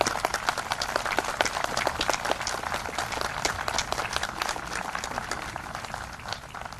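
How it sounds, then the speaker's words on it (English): A crowd at a Memorial Day ceremony applauds the master of ceremonies. Many hands clap in a steady, moderately loud patter that holds evenly and eases slightly toward the end. "Do we give him a large applause?"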